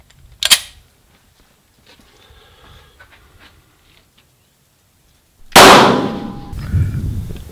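A .40 Smith & Wesson Winchester white box round fired at a SafeGuard armor plate, heard as a sharp distant shot and then a loud close crack of impact with a ringing clang that trails off.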